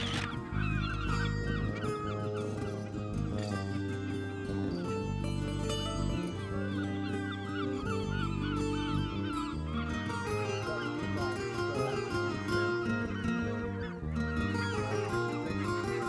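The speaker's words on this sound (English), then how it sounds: "we've just stepped ashore to find this fantastic colony of herring gulls with their chicks" A colony of herring gulls with chicks on the shore at Harris calls in loud, dense overlapping honking cries throughout, with faint narration underneath.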